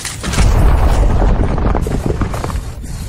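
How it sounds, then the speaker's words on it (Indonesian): A Xianling stone explodes in a loud, sustained boom, a dense low rumble with crackling debris that rolls on for a few seconds before easing slightly, with no speech. "Batu Xianling meledak."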